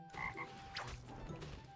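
A toad croaks in a Jujutsu Kaisen fighting game, two quick low croaks up front followed by a brief higher whooshing effect, with no talking.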